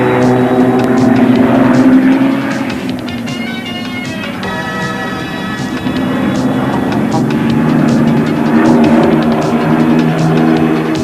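An aerobatic display aircraft at the 1986 Biggin Hill air show pushes into a bunting loop, its loud propeller engine droning and shifting in pitch as it passes, the roar dipping briefly then swelling again.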